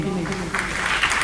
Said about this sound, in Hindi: ताली नहीं बजाओ।